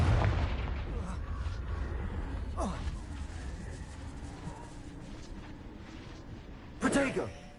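Confringo fire spell bursts in the Hogwarts Legacy video game on PS5, two sharp blasts, one early and a louder one near the end, over steady game ambience.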